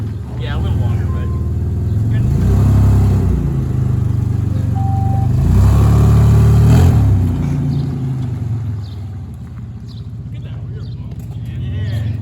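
A Honda S2000 fitted with an O2 sensor defouler revs close by, its deep engine note swelling and falling in two strong pulls before settling into a rough, steady idle.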